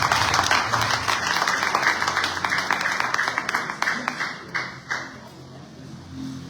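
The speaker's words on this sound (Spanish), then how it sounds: "denle un aplauso al Señor" A church congregation applauds during a Sunday service. The clapping starts dense and loud, then thins to a few scattered, separate claps before fading out.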